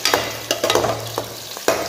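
Onions lightly frying in a pan, stirred with repeated scrapes over a steady close sizzle, the strokes coming in uneven bursts with no talking.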